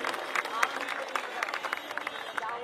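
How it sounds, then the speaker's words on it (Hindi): A crowd at an Independence Day political gathering breaks into dense, steady applause, a wash of many hands clapping with voices murmuring underneath. "जोरदार तालियां"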